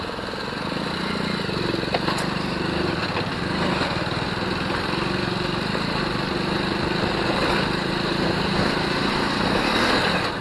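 A motorbike engine runs steadily and close throughout a ride along a village road, a constant buzzing drone with wind rush and no pauses or talk.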